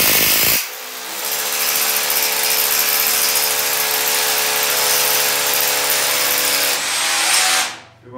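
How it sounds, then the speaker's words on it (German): A cordless power screwdriver drives a 40 mm hammer-fixing dowel into a concrete lintel above a window, with one loud sustained motor whine that starts abruptly, holds steady for several seconds, then winds down to a stop. "Ich zeige euch jetzt mal mit dem Schrauben."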